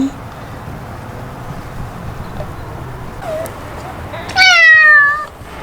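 A cat in labour gives a loud, drawn-out meow near the end, with softer faint mewing cries just before it over a low room hiss.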